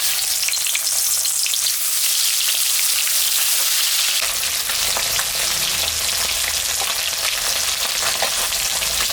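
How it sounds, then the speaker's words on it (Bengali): Fish seasoned with salt and turmeric fries in hot mustard oil in a wok, a loud continuous sizzle and crackle that swells sharply as the fish hits the oil partway through, with no voices. "তেল গরম হয়ে গেছে, আমি এখন মাছটা ছাড়িয়ে দেব"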